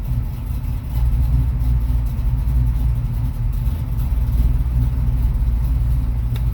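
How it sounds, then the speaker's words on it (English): Steady low idle of a car engine fitted with FiTech EFI fuel injection, a Mopar with a six-barrel setup, running close and even for several seconds with no talking. "It's idling fine."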